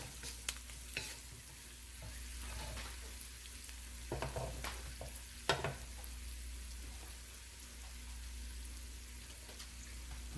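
Vegetables softening in a pan for a meatless meal, frying with a soft steady sizzle under a low hum, broken by several scraping clacks of a utensil stirring them.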